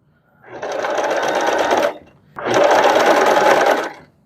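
Two close, loud bursts of a sewing machine running a zigzag stitch on a doll skirt, each lasting about a second and a half with a short pause between.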